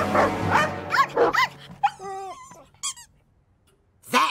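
A cartoon dog gives a run of short, high yips and barks, then squeaky whimpering tones and one last bark, all loud and close with brief pauses between.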